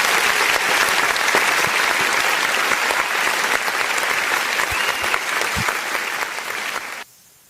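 Audience applause at a public event, loud continuous clapping from a crowd that carries on steadily for about seven seconds and then cuts off abruptly.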